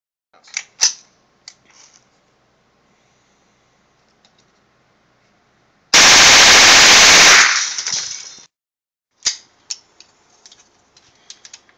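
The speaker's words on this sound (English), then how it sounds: "I've noticed when you're firing this SSAR" An M&P 15-22 rifle with a Slide Fire SSAR stock bump-firing Winchester Super X .22lr 40-grain high-velocity round-nose ammunition: one loud, rapid burst of shots lasting about two seconds, with scattered clicks and handling noises before and after.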